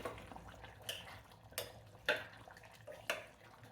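Chicken curry with garam masala is stirred in a pan, giving quiet scraping and clinking of a utensil against metal in a few separate strokes, faint and close, with no voices.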